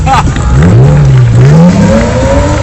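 A car engine revved hard on the throttle, very loud and close, its note dipping and then sweeping upward before easing off.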